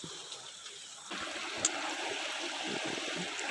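The Kinmarin waterfall stream in the countryside flows with a soft continuous rushing wash that grows fuller after the first second and stays steady, fairly quiet and heard alone.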